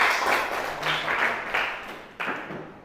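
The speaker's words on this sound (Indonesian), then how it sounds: "Tepuk tangan buat kelompok." Classroom group applause rises in several uneven bursts, a roomful of students clapping at close range with swells and dips in loudness and no speech over it.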